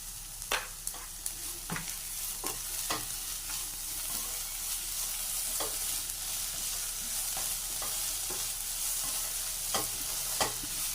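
Brinjal (eggplant) sizzles and fries in a pan while being stirred, soft steady frying hiss broken by repeated sharp scrapes and clinks of the spoon against the pan, with no talking.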